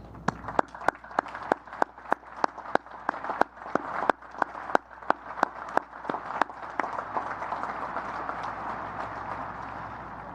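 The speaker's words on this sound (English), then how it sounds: "Please join me in recognizing and applauding these distinguished graduates." Audience applause at a U.S. Naval Academy commencement, sharp separate claps at first that blur into a steadier, thinner patter toward the end, with murmuring voices faintly underneath.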